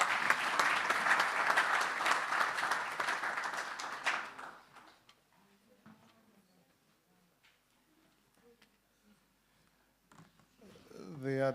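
Applause from a community election dialogue audience greets the final speaker, a full burst of clapping that fades out after about four seconds into near silence with faint shuffling and a soft voice near the end.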